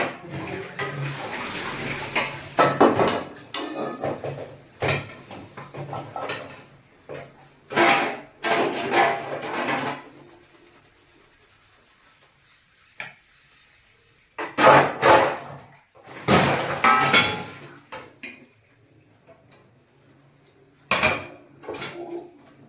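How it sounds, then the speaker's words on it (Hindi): Dishes, pots and cutlery being washed at a kitchen sink, with close clattering of metal and ceramic, scraping, and running water in bursts separated by quieter pauses. "तो पहले तो सबसे पहले बर्तन धो लेती हूँ"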